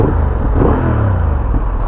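Loud, close exhaust roar from a 2023 Honda Hornet 750 motorcycle, a quick rev that rises and falls in pitch over a couple of seconds, no voices.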